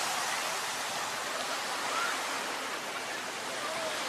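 Waves at Waikiki Beach give a steady, broad rushing wash of surf that holds even and fairly loud throughout with no clear breaks.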